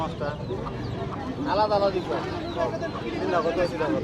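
A rooster clucks and makes throaty calls amid busy chatter at a rural Bangladeshi poultry market selling ducks, geese and roosters, with several voices haggling nearby throughout.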